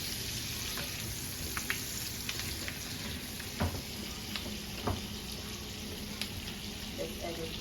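Vegetables stir-fry with rosemary in a pan, giving a faint, steady sizzle with occasional light clicks and utensil taps, quiet and close.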